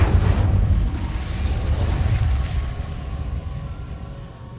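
The Incendio fire spell cast in Hogwarts Legacy gives a loud whooshing fiery burst with a deep rumbling roar that slowly fades over several seconds, with no voices.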